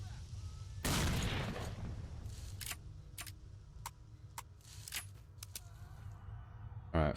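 A frag grenade goes off in S.T.A.L.K.E.R. Shadow of Chernobyl as one loud, broad blast lasting about a second. Scattered sharp cracks follow at intervals over a low, steady background rumble.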